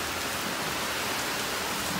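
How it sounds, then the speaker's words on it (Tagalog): Heavy rain pours steadily during Typhoon Hagibis, a dense, even hiss of drops hitting surfaces at moderate loudness, with no voices and no breaks. "Ayan na, lumakas na yung ulan."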